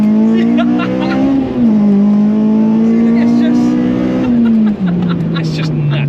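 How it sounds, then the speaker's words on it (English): A naturally aspirated 282 bhp Honda Civic EP3 with a K20 engine accelerates hard on track, its loud, steady engine note climbing and then dropping sharply at two quick gear changes. "The way you can bang through the gears now, it is just next level."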